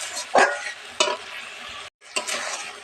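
A spoon stirs chopped tomato and spices in a frying pan during home cooking of a fish-roe and pointed-gourd curry, giving three distinct scraping strokes with a soft sizzle between them, close and moderately loud, with a brief gap near the end.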